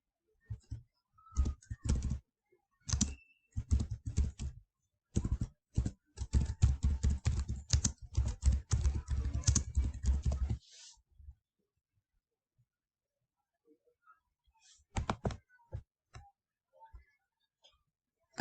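Someone types a display name on a computer keyboard while setting up a free blog, in quick bursts of close keystrokes with pauses between. A longer run of typing is followed by a quiet stretch and a few more scattered keypresses.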